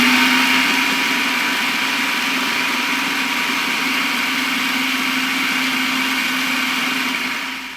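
A blender or food processor whirs steadily at high speed, a loud continuous motor drone blending crushed cookies with melted butter, running alone and winding down at the very end.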